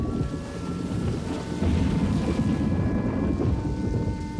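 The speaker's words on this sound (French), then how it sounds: "Un orage venait d'éclater." Thunder from a breaking thunderstorm rumbles steadily and loudly over hissing rain, with no voices and a swell in the middle.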